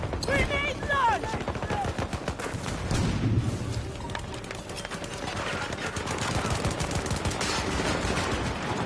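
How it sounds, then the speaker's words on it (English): Battlefield 2042 gameplay with a dense barrage of gunfire and explosive blasts, including a grenade launch amid continuous loud combat noise and some chatter underneath. "Grenade launch!"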